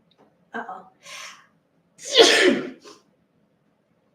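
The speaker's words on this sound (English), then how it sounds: "I'm gonna sneeze." An auctioneer sneezes during a live sale: a couple of short in-breaths rise into one loud, close sneeze with a brief trailing gasp, and a voice is heard around it.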